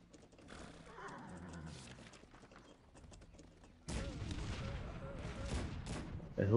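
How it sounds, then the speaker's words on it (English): Cannon barrage of around twenty guns firing in the Cossacks 3 strategy game, a dense rumbling burst that swells loudly partway through, mixed with horse whinnies and scattered gunfire. "especially with this barrage of cannons. I think that's 20 cannons or something like that"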